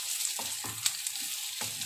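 Cut potatoes tossed into a pan of lightly browned frying onions set off a continuous close sizzle, with a few clattering bumps as they drop in and shift about; no speech.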